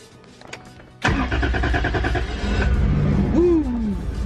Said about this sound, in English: now we're gonna fire the car for the first time